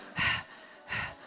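A voice imitates a toddler's heavy breathing with two strong, breathy huffs spaced about a second apart, close and clear with nothing else around.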